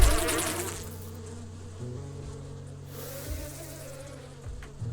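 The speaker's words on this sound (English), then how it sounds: "Yes! Bees!" Swarming bees buzz in the video game 7 Days to Die, a dense insect drone that is loudest at the start, then settles into a steady hum under low game ambience, with no voices.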